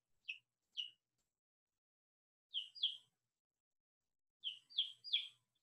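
A baby chick chirps in short high peeps, first two single calls, then a pair, then a quick run of three, faint and isolated against silence.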